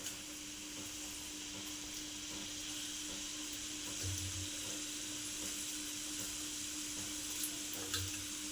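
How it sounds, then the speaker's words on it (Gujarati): Spicy ghughra, stuffed dumplings, deep-frying in hot oil, giving a steady, even sizzle that holds throughout at moderate level with a faint hum beneath and a few soft bumps. "આ રીતે બધા ઘૂઘરા તરી લેશું."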